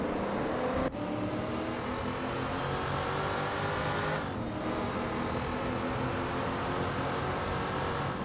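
Race cars lap Laguna Seca in a Group 3 racing video game, a steady, loud engine drone with overlapping cars at high revs and a brief cut near the start, with no talking.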